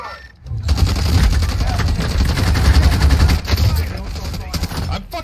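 Heavy automatic gunfire in the Call of Duty Warzone video game, loud sustained bursts after a brief lead-in, close and dense, with a voice shouting under the shots.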